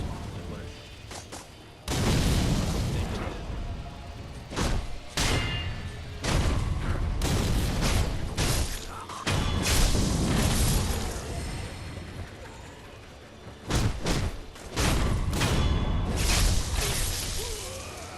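Bombs explode in the video game Sekiro: Shadows Die Twice, with a series of loud, sharp bursts, crashes and whooshes that come in irregular clusters across the stretch of gameplay.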